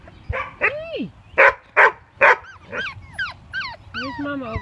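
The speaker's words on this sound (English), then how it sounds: "There's Mama over there in the background barking." A mother dog with four-week-old puppies barks and yips in sharp bursts, several quick calls mixed with whimpers, fairly close, with a person talking over part of it.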